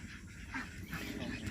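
Muscovy ducks on a farm give soft, hoarse honking calls, a few brief bursts spaced unevenly over a low background, fairly quiet and not far off.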